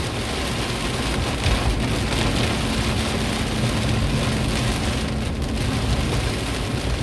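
Heavy rain drumming on a car driving from Palembang to Lahat, a dense, loud, continuous patter on the body and roof with road noise beneath.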